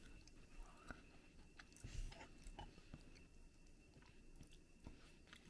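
Someone eating a bite of freshly cooked, slightly firm rice with doenjang sauce, close-up soft chewing and biting sounds in a quiet room, with small crunchy clicks and no talking.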